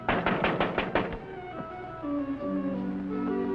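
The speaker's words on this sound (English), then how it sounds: "That man knocking on the door" A rapid series of about eight sharp knocks on a door, close and loud, followed by a lingering tonal ring that fades.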